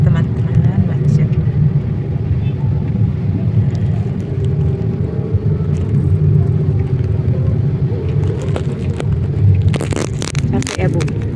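Steady low rumble of a car interior crawling home through an evening traffic jam, a continuous engine and road drone with people talking over it and a few sharper knocks near the end.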